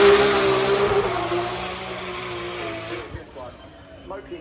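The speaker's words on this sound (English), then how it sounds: "James Dean behind the wheel, speeds off, everyone leaving donuts" Lexus RTF drift car at Goodwood 2024 revving hard while spinning donuts outside the house, a loud sustained engine roar with tyre noise that fades somewhat after a few seconds.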